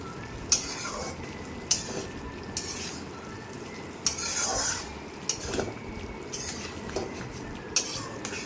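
A spoon scrapes and clinks against a pan while cauliflower curry with chopped coriander is stirred, sharp knocks recurring every second or two over a soft sizzle, close and moderately loud with no talking.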